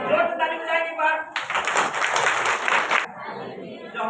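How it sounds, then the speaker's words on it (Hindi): A church congregation bursts into loud clapping for under two seconds, a bright crowd roar of hands that cuts off abruptly, framed by a preacher talking before and after. "जोर से ताली बजाएंगे एक बार"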